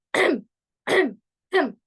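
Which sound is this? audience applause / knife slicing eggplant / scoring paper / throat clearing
throat clearing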